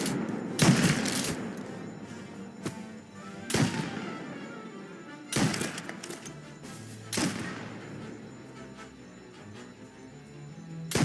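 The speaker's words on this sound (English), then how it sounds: "All available officers, please respond. Reports of gunshots." Several sharp, loud gunshot blasts in the video game Mafia, some in quick bursts, spaced irregularly over a low rumbling background, with echoing tails after each volley.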